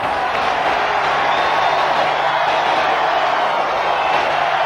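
A big cricket crowd at a match in New Zealand roars and cheers as a steady, dense wash of noise that holds at full level throughout with no breaks.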